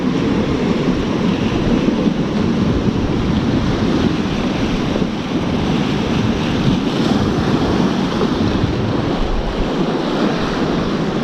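Big set of ocean surf breaking on a UK shoreline, a loud, continuous wash of churning water with steady wind noise over it and no voices.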